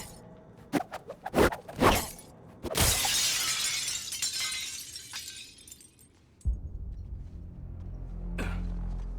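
Glass shatters in the video game Suicide Squad: Kill the Justice League, with a few sharp impacts followed by a loud crash and a long tinkling spray of falling shards.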